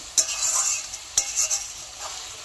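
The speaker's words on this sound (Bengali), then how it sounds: "দেখো বন্ধুরা আরেকটু আমি আরও কষাবো এটাকে, যতক্ষণ না মশলাটা" Mutton pieces and masala being stir-fried in a pan for Bengali mutton kosha with potatoes, with a steady soft sizzle and a few sharp spoon scrapes against the metal.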